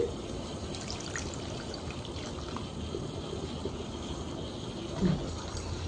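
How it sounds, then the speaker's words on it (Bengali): Ground neem leaf juice is poured into melted soap in a pan, giving a continuous soft liquid trickle and splash with a slight bump near the end. "এখন ওই বেটে রাখা নিম পাতার রসটা এর মধ্যে ঢেলে দিচ্ছি"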